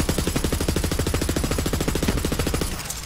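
Rapid automatic gunfire in the video game Borderlands 3, a fast, steady stream of loud shots that runs for about three seconds before tapering off, with no speech over it.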